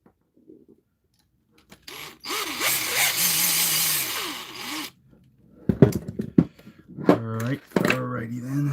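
A power drill drives screws into an electric skateboard in a cluttered workshop, one sustained whirring run followed by shorter bursts, with a person talking in between.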